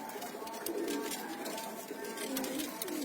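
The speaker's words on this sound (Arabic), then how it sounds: "هاي طيور قبالكم" Pigeons coo low and soft in a pen of breeding males kept for sale, a steady murmur under broad noisy background hiss with no clear talk.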